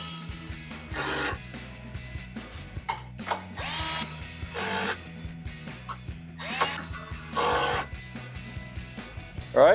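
Short bursts of a power tool alternate with ratcheting clicks while 10mm bolts are driven in to resecure the top of the grille on a 2019-2021 Chevrolet Silverado 1500, close by, with gaps of quieter handling between bursts.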